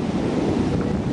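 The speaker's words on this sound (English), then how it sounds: "Big waves." Big ocean waves surge and wash steadily at Surfers Paradise beach in Australia early in the morning, a close, continuous roar of surf mixed with wind buffeting the microphone.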